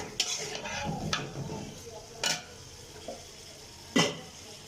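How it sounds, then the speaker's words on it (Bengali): Tomatoes go into a hot pan for a Bangladeshi village-style fish curry, bringing a steady low sizzle broken by a few sharp clinks and scrapes of a utensil against the pan. "দেখো গাইস, আমি টমেটোগুলো দিয়ে দিলাম এখানে।"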